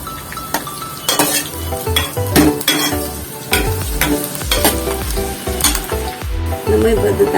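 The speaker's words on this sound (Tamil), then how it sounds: "நல்லா வதங்கணும்" Onions sautéing in a hot pan for Tamil mullangi (radish) kulambu, loud continuous sizzling close up with repeated spoon scrapes and clinks against the pan, no voices.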